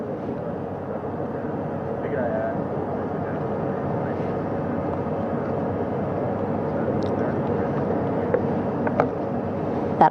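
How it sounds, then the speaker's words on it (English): A recovery helicopter flies back to the ship after hoisting astronauts from the ocean at the end of a lunar mission, a steady, moderately loud engine and rotor drone, continuous throughout. "That first helicopter now on its way back to the ship here."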